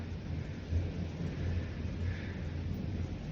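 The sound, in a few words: heavy rain with thunder outside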